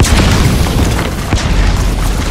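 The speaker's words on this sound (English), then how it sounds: "I got a grenade. I throw a grenade at ya." A grenade explodes in the video game Metal Gear Solid 5, a loud, sustained, rumbling blast that fills the whole moment with dense low roar and crackle.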